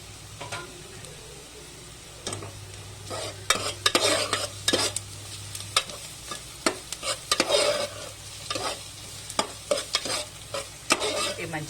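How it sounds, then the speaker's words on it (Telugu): Ginger garlic paste fries in a pan under a low, constant sizzle while a utensil scrapes and taps against the pan in quick, irregular strokes. "అల్లం వెల్లిపాయ పేస్ట్ వేస్తున్నా"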